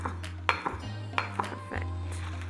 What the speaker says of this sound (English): I'm going to cut it into about 3/4 of an inch ribbons, but no need to be precise